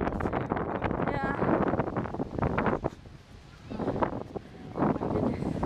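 Cold wind gusts outdoors, buffeting the microphone in loud rushing bursts that ease off briefly and then return, with people talking over it.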